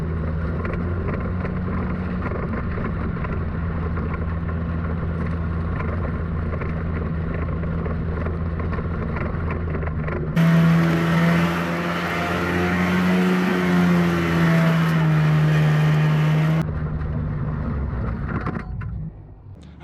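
A two-stroke, two-cylinder tracked mini tank drives off-road with a steady, loud engine drone that rises into a harsher, revving roar partway through as it turns, then eases back.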